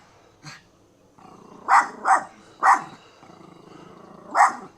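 A dog barking outdoors at a kite overhead, one soft bark then four sharp, fairly close barks at irregular intervals over a low background hum.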